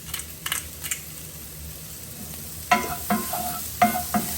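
Garlic and black pepper cooking in a pan for a vegetable barley risotto, with a soft steady sizzle and a few sharp stirring scrapes near the start and end.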